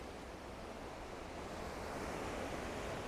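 Surf washes against basalt rocks at Burleigh Heads, a steady, fairly faint roar of white water that swells slightly without distinct separate crashes, with no voices.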